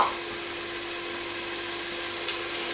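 Onion and a garlic clove fry in a pot as a steady, even sizzle, close and moderately loud, with a small clink near the end.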